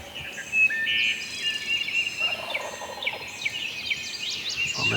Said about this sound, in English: We got birds gobbling